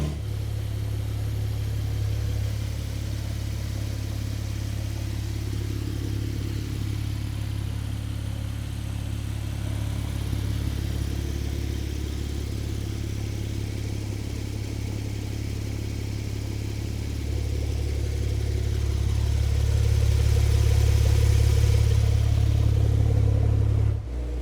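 Porsche Brabus Rocket with a 900 HP engine heard from outside the car, a deep steady idle rumble that swells louder near the end, with no talking.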